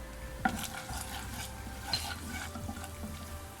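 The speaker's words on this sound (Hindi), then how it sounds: "इसके अंदर मैं ये चॉप किया हुआ जिंजर यानी कि अदरक ऐड कर दूँगी। इसको हम ब्राउन नहीं करेंगे, 1 मिनट तक आपने इसको हल्का सा सौते कर लेना है।" Chopped ginger sautés gently in oil in a pan for a beef stir fry, giving a soft steady sizzle with faint stirring scrapes and a couple of light clinks, close and fairly quiet.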